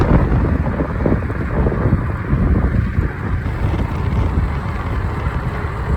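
Wind blows outdoors on a hilltop during a fat-tire electric bike ride, making a loud, continuous rumbling buffet against the microphone with no talking.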